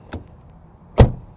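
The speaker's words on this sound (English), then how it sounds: "Door open and close sound from the outside and from the inside." A 2022 Infiniti QX55 door opens with a light latch click, then shuts about a second later with a heavy, solid thud, close and with no talk.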